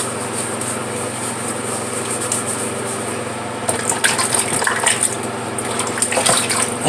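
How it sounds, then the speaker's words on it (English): Tap water running steadily over a man's hands before a wet razor shave, a continuous close splashing stream that grows more broken and splashy midway as the hands move through it. "A little water on the hands."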